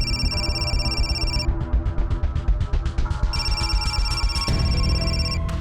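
A steady electronic phone ring warbles on and off over a low background hum, repeating in bursts with no voices.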